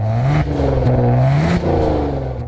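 A Maserati sports car engine in normal mode idles and revs in smooth, moderate swells, its low drone rising and falling steadily with no voices.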